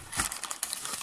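Paper wrapper inside a KFC chicken pack crinkling and rustling as it is handled, a short burst of close, crisp crackles with no speech.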